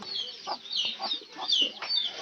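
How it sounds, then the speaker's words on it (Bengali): Chickens cluck in quick, short bursts close by on a small farm where goats and cattle are kept. The soft, throaty clucks overlap with higher chirpy calls. "মুরগি"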